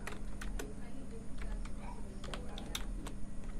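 Fast, irregular clicks of computer keys pressed in short bursts sound close and fairly clear over a low steady hum, with a faint voice now and then.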